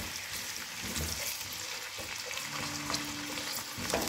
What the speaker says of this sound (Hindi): पैन में ऑयल जो है वो गर्म हो रहा है, इसमें मैं जो बाकी का प्याज और लहसुन था वो ऐड कर रही हूँ।